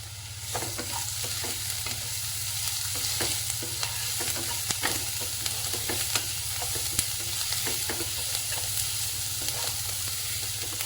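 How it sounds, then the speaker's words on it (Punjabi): Finely chopped onions with a little salt fry in a pan for paneer paratha, giving a continuous close sizzle broken by frequent scraping clicks of stirring throughout. "ਪਿਆਜ਼ ਆਪਣੇ ਹਲਕੇ ਬਰਾਊਨ ਹੋ ਚੱਲੇ"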